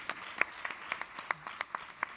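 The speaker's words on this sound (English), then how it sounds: "A round of applause for yourselves for being amazing" At a corporate event, a few scattered hands clap faintly, sharp, irregular claps spaced apart rather than a full ovation.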